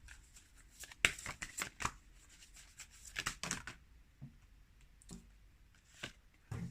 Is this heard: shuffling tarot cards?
yes